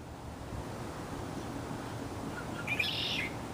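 A short, faint, high bird call comes from a tree in a backyard near the end of the clip, distant and set over a steady low outdoor rumble.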